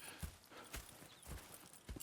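Horse hooves clip-clop in the video game Red Dead Redemption, four or five faint, evenly spaced hoof knocks on hard ground over two seconds, with no voices.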